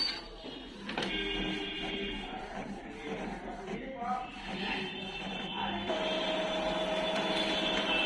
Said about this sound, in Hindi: ये देख रहे हैं, ये इस प्रकार से छाप रहा है।